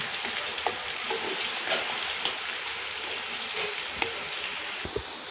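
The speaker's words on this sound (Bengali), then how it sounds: "পেঁয়াজটা তেলের সাথে আমরা একটু ভেজে নেব।" Chopped onion sizzling in hot oil in a pan while cooking beef with potatoes, a soft, steady crackling hiss with occasional small pops and light stirring clicks, continuous and alone.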